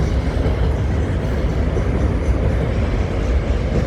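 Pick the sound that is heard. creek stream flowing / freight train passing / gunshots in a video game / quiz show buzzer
freight train passing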